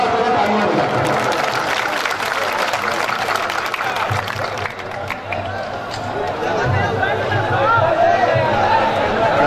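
A crowd at a mushaira poetry gathering applauds loudly, with the clapping swelling and fading amid murmuring chatter while a voice talks through it.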